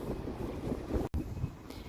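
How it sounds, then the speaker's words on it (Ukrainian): Steady, rumbling wind in Derry, Northern Ireland buffets the microphone for two seconds, with a brief dropout in the middle and no voices. "Сьогодні дуже вітряно"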